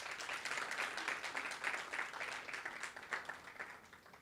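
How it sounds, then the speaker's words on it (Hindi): Sustained audience applause welcoming an alumni guest at an interactive alumni session, a steady wash of many hands clapping throughout with no speech over it. "तो ज़ोरदार तालियों से एक बार उनका स्वागत करें।"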